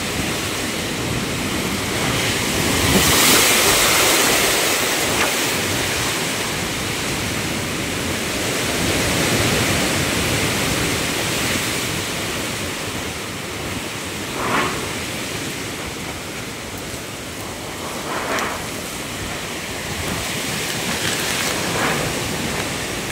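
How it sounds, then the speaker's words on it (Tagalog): Strong wind roars continuously by the sea, gusting louder at moments, with a few brief bursts of rattling over the steady rush; no one speaks. "Lakas ng palakas ng hangin"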